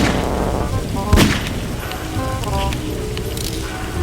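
A single booming gunshot from a gun in a video game cracks out loudly over busy game sound and a steady rumble, with no talking.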